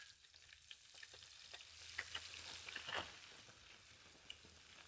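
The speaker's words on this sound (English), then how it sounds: "You can see that vibrant sizzle right there." Battered shrimp fry in hot grease at 400 degrees, giving a soft, continuous sizzle with small crackles and pops scattered throughout, quiet and close with nobody speaking.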